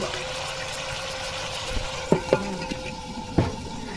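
Mutton and potatoes sauté in a pot with a low, steady sizzle, while a utensil scrapes and knocks against the metal a few times.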